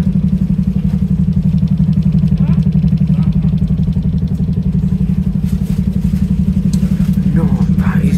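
The rear engine of a Stagecoach London bus, fleet number 47999, throbs loud and close with a steady, fast, motorcycle-like pulse, while someone talks over it.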